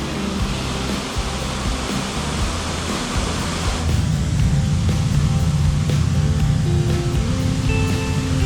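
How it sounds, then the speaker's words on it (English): A waterfall along the Blue Ridge Parkway gives a loud, continuous broadband rush of falling water, steady throughout with a deeper rumble in the second half. "Logan's last waterfall."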